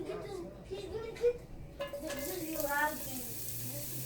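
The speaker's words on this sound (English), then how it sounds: "now that the oil is hot, I'm going to start by frying up the ginger" Ginger sizzles and crackles in hot oil as it hits the pan, with a person talking over the frying.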